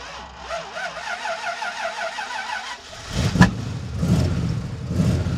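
A De Tomaso Pantera engine cranks and catches, bursting into a loud, rough revving roar after a few seconds of idle whine, with repeated throttle blips.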